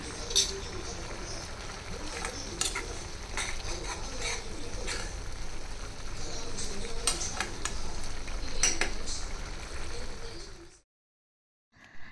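Curry being stirred in a pan with garam masala, a steady close scrape and soft sizzle that runs unbroken for about ten seconds and then cuts to silence.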